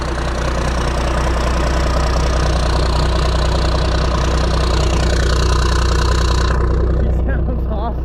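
A Cummins diesel truck engine idles just after starting, a loud, steady low clatter and drone that runs continuously and close up, with faint voices in the background.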